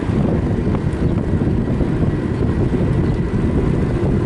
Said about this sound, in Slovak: No fúka tu poriadne.